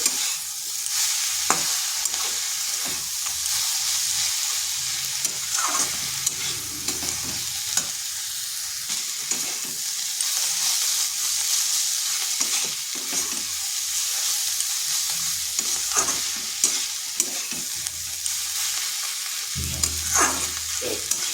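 Cabbage and bori (sun-dried lentil dumplings) frying in a pan while being stirred, with a steady sizzle and scattered scraping spoon strokes against the pan throughout.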